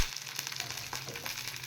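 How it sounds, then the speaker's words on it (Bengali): Chopped okra and onion fry together in hot oil, giving a steady close-up sizzle and crackle with no one talking for a brief moment. "ভিন্ডি আর পেঁয়াজ আমি একসাথে ফ্রাই করে নেব।"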